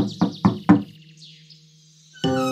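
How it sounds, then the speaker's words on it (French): Three quick knocks on the door of a little cartoon cottage, loud and close, followed by a soft sustained tone and a musical swell. "Boucle d'Or arriva en courant devant la maisonnette et frappa à la porte."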